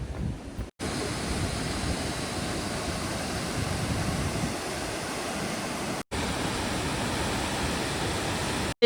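A waterfall in Cherrapunji, Meghalaya roars as a dense, steady broadband rush, loud and close, broken only by short cuts, with no talk.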